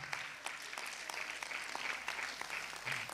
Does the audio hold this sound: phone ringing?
no